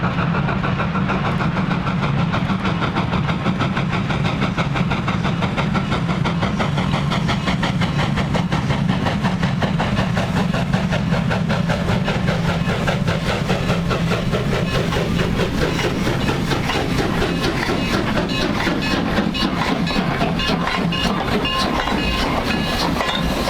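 A K-36 steam locomotive hauls a train along the Animas River, a steady loud rumble with rhythmic clickety-clack of wheels on rail joints, continuous and close throughout.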